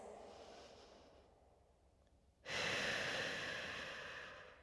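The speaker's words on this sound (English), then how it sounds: "Take a deep inhale and exhale." Deep breathing during a Pilates mat exercise: a slow, soft inhale that fades, then a strong, airy exhale rushing out close to the microphone, with no talking.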